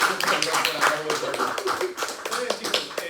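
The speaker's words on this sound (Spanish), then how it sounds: "Un aplauso por todos." A small group of students claps after seminar presentations in a classroom, with sharp, scattered hand claps over about three seconds and voices talking alongside.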